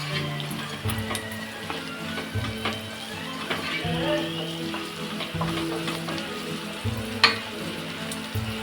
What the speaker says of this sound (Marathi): आता आपण याच्यामध्ये टाकणार आहोत मिरच्या मी ते चार मिरच्या घेतल्या आहेत कट करून तिखट आहेत त्या सुद्धा आपल्याला परतून घ्यायच्या आहेत